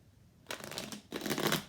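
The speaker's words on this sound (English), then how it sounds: "I don't like that shuffle. Let's do one more." Tarot cards are riffled in two quick, close shuffling bursts, each a dense papery flutter, in a quiet room.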